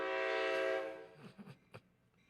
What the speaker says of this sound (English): Train go by real quick.